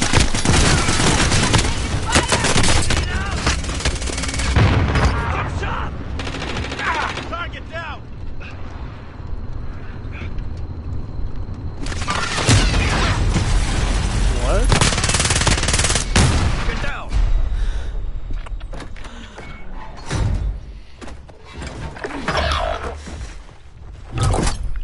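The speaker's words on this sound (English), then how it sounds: "Taking fire!" Sustained bursts of automatic gunfire from the Call of Duty Warzone video game, loud and dense for most of the stretch with a quieter lull midway, while players talk over the shooting.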